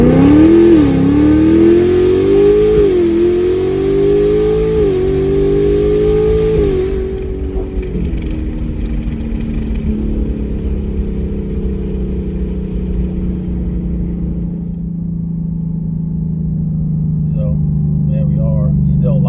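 Inside a 2024 Mustang GT fitted with Kooks green catalytic converters, the V8 revs up through climbing pitch for several seconds, then drops off and settles into a lower steady drone, loud and close.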